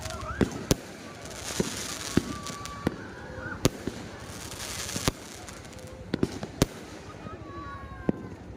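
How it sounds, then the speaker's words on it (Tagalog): New Year fireworks burst in a scattered series of sharp bangs and pops, some distant, others nearer, over a steady crowd murmur and background hiss. "Ang ganda ng fireworks."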